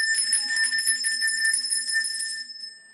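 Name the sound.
ringing a bell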